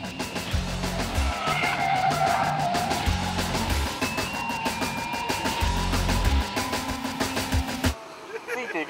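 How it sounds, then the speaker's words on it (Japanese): A Toyota Mark II drifts around a track, its tires squealing and skidding over a loud, continuous engine roar, with background music and a voice talking over it before the sound cuts off abruptly. "マーク2はドリフトで編集部の隊列を乱す"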